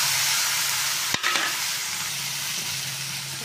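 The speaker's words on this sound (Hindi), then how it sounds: "इस मसाले में ककड़ी ऐड करते हैं" Cucumber tipped into a pan of hot masala spiced with turmeric, red chilli and dry coriander, giving a steady close sizzle and frying hiss with a brief clatter as the pieces land.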